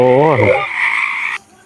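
A frog croaks loudly and close by in a rice field during harvest, giving a buzzy, rising-and-falling call. A steady droning tone follows and cuts off abruptly.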